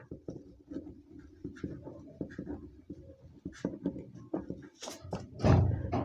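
Pen writing out an accounting journal entry, a run of close scratchy strokes and taps in uneven rhythm, ending with a louder thump as the pen is set down, with no one speaking.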